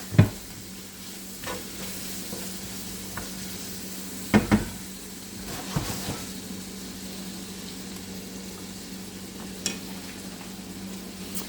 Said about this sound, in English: that's nicely sizzling up now